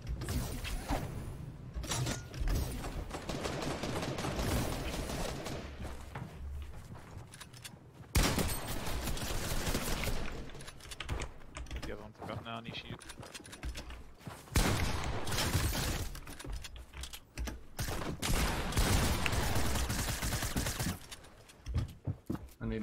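Gunfire in a shooting video game, with loud dense bursts of rapid shots and crashes that keep coming in waves and cut off sharply several times, and no voices heard over it.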